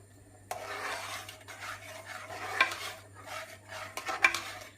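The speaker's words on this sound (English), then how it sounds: "Just give that a good stir." A spoon stirs canned tomato into chicken karahi curry in a pot, producing soft scraping and rubbing with occasional metallic clinks against the pot, quiet and close over a faint background hum.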